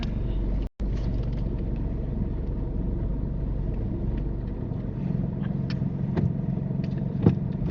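A car moves slowly during a UK mock driving test while the driver straightens it, with a steady low engine and road rumble heard from inside the cabin and no talk.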